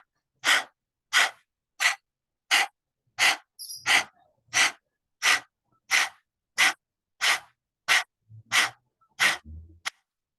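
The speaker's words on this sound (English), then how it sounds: "Letting that move in and out as you pant." Lion's breath yoga exercise with the tongue stuck out, performed as a steady series of about fourteen forceful, breathy exhalations at an even rhythm, each one sharp and close, with faint inhales between.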